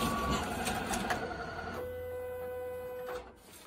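A Quadient postage machine with a dynamic scale feeds, weighs and prints an international envelope, making a brief rushing mechanical whir with a steady motor hum that fades at the end.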